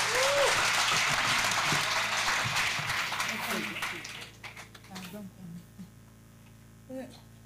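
Crowd at an outdoor church crusade of healing and deliverance clapping loudly and densely for about four seconds before the applause thins into scattered claps over a mains hum, with voices heard among them.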